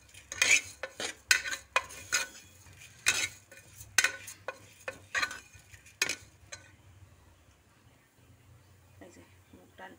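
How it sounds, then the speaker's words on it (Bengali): Mung dal roasts dry in a pan, a spatula scraping and clacking against the metal in quick rhythmic strokes that ease off toward the end, with a low voice murmuring underneath. "এই যে মুগ ডালটা একদম ভাজা হয়ে যাচ্ছে"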